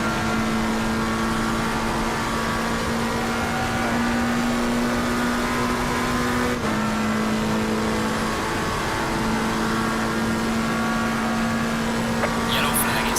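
A race car engine in the racing game Assetto Corsa Competizione drones loud and steady throughout, a constant whirring hum with a slight pitch shift midway and no break in the noise.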